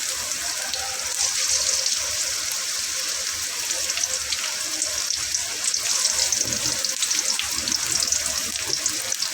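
Chopped onion fries in a little oil in a pan for a pangas fish and potato curry, giving a steady, close, even sizzle with a bright hiss and no talking over it.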